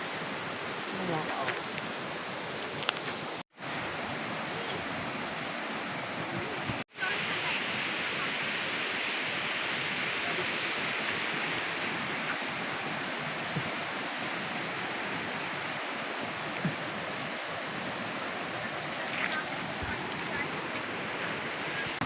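A forest stream flows with a steady, dense rush of water that fills the whole stretch at an even, fairly loud level, broken only by two brief dropouts near the start.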